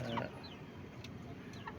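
A healthy free-range chicken on a farm fed partly organic coconut pulp gives a brief cluck right at the start, then only quiet farmyard background remains, faint and distant.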